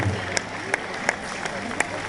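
At a 25th-anniversary gathering, scattered claps of applause for the host ring out in a slow, spaced rhythm beneath a person talking over a murmuring room.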